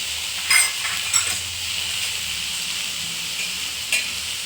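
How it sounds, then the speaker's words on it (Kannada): Bitter gourd sizzles steadily as it fries in oil in a pan, with a few light scraping clinks of a spoon stirring it, close up and without talk. "ಹಾಗಲಕಾಯಿ ಫ್ರೈ ಆಗಬೇಕು ಸ್ವಲ್ಪ ನೀರಿನ ಅಂಶ ಕಡಿಮೆ ಆಗೈತ್ರಿ ಇವಾಗ ನಾವು ಒಂಚೂರು ಆಯಿಲ್ ಆ್ಯಡ್ ಮಾಡಲ್ರಿ"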